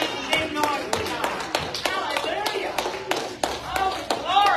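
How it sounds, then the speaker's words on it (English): A church congregation claps hands in praise, a steady rhythmic run of claps with shouts and voices mixed in, lively and close. "Let's just appreciate the Lord and show him that with some hand claps and some shouts this morning."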